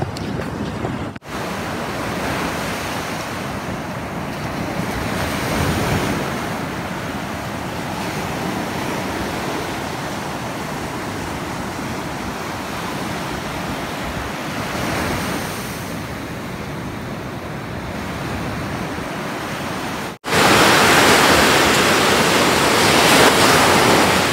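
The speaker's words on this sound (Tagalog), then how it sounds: "dagat ng Zambales." Steady roaring surf from sea waves along the Zambales coast, a continuous broad wash of breaking water with gentle swells in loudness, heard close and loud, with a brief handling break near the end.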